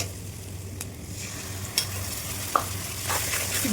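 Salt, turmeric, garlic and cumin paste sizzle steadily in a pan, a continuous soft frying hiss broken by a few brief clinks of stirring, moderately quiet and close with no talking.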